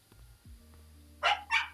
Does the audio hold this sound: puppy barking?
yes